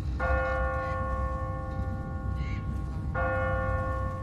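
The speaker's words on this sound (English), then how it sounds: "What kind of church bell goes off at 20 past the hour?" In The Walking Dead video game, a church bell rings twice in Savannah, each a clear metallic toll with a long ringing decay over a low background hum.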